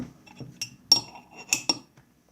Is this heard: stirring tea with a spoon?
yes